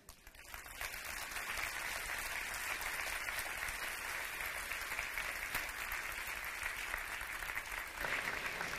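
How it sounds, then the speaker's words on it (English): An audience at a keynote talk claps steadily and fairly loudly for about eight seconds, a dense sustained wash of applause that stops abruptly near the end. "so you were clapping"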